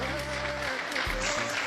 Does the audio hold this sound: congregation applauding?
yes